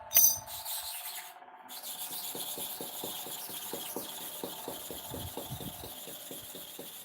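Clipper blade being sharpened on a stone, a steady gritty rubbing with rapid repeated back-and-forth strokes, close and continuous after a brief knock at the start.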